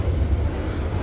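A train rumbles low and steady at Nong Khai railway station, a continuous heavy mechanical drone heard up close with no voices.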